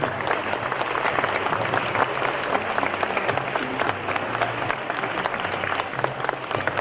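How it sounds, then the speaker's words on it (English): Theatre audience gives the cast of a mental-health association play a round of applause: steady, dense crowd clapping that holds at an even level throughout, with faint voices murmuring underneath. "So let's give them a big round of applause."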